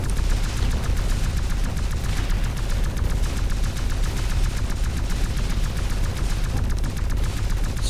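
Defense towers in the XMorph Defense video game fire without pause, a loud, dense barrage of rapid gunfire-like bursts that fills the whole stretch with no talking.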